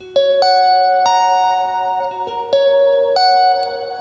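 Melodic tones ring out in sustained, echoing notes with long delay trails and reverb washing between a few plucked attacks.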